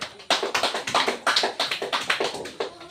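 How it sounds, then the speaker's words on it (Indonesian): Rhythmic clapping in a classroom, a steady run of sharp, evenly spaced claps from a group of students, close and fairly loud with no talking. "Berikan tepuk tangan dulu"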